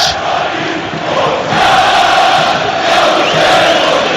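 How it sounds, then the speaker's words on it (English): Polish football fans on the far side of the stadium at a Poland vs Wales match, a loud continuous crowd roar of chanting that swells and ebbs in waves. "the noise you can hear are Polish fans on the far side"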